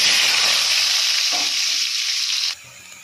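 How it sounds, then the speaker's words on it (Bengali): Black cumin seeds and dried red chillies sputter in hot oil as a tempering, a loud, steady close-up sizzle that drops abruptly to a quieter fizz near the end. "এই যে কালো জিরে আর শুকনো লঙ্কা ফোড়ন দেবো"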